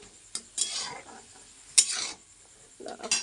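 Leafy greens stirred and sautéed in a pan for a cauliflower curry, with a few sharp scraping clatters of a spatula against the pan over a soft sizzle, close and fairly quiet.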